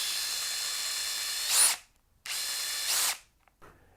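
A Bosch 18V Compact Tough EC brushless drill (DDS183) spins its chuck freely in two close, loud, high whining bursts, the first about one and a half seconds and the second shorter, separated by silence, with no talking.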